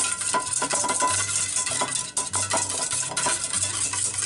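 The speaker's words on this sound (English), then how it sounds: "we're just going to kind of mix all that together, kind of make an emulsion" A whisk or spoon mixes a citrus marinade for shrimp in a bowl, a close, brisk scraping and clinking rhythm of repeated strokes with no talking.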